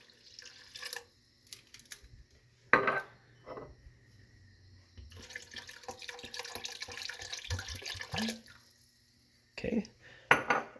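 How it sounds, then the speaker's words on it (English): Two jars of clam juice poured into a cooking pot, with liquid splashing, glass and metal clinks and knocks, in intermittent bursts close by; no speech. "I'm going to add those 2 jars of clam juice"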